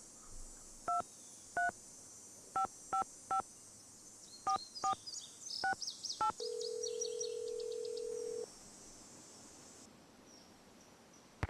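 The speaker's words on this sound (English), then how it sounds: "I'm going to make some phone calls here." A series of short dual-tone telephone keypad beeps in an irregular rhythm, followed by a steady ringing tone, with faint electronic background hum, from the video game Nancy Drew: Ghost Dogs of Moon Lake.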